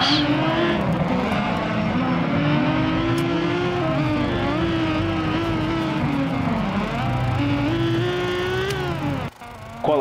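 A field of 2-litre class race cars roars past, with engines revving and shifting through overlapping rising and falling tones, loud and sustained, with a brief dip near the end.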